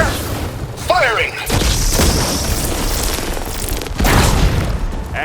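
Booming explosions from combat in the video game Horizon Forbidden West, loud bursts with rumbling low end, one around the middle and another near the end, under constant battle noise.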